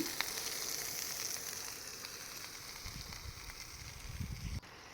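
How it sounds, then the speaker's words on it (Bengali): Cut cabbage with green chili frying in oil, a soft, even sizzle and hiss throughout with a few low rustling stirs near the end, faint and without talk. "এবারে আমি কেটে রাখা বাঁধাকপিটা অ্যাড করে দিচ্ছি"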